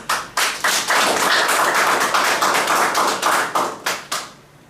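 An audience applauds at a GFA press meeting in Kumasi, a loud, close burst of clapping from a room of people that pulses for about four seconds and then tapers off.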